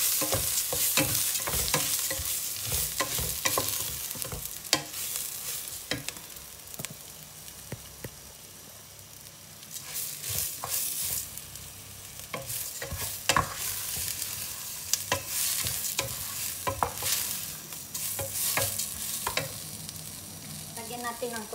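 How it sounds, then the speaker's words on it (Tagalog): Uncooked, unwashed rice sautéed in a pan for arroz caldo gives a steady sizzle with scraping stirs and soft clatter running throughout, close and continuous, with a quieter dip partway through and no talking. "Igisa lang natin yun ng konti."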